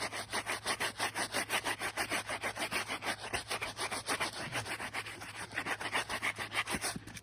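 A brush scrubs the soles of suede Jordan sneakers in quick, steady back-and-forth strokes, a close, rhythmic rasping that keeps going with no talking.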